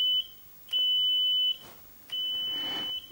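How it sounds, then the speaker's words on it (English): Small buzzer powered by a potato battery sounds three clean, shrill electronic beeps of varying length, Morse-code style, separated by short silences in a quiet room. "if we wire up the buzzer, you can hear now that we've got enough current to get the buzzer to work"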